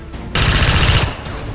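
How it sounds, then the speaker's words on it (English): Rapid automatic gunfire from the XCOM 2 video game, a dense close burst of shots lasting about a second, followed by lingering echo. "Start shooting the Mouton."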